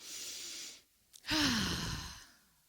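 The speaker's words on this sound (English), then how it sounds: "So let's take a deep breath." A single deep breath taken close up: a long airy inhale, a short pause with a faint catch, then a fuller voiced sigh of an exhale that fades out.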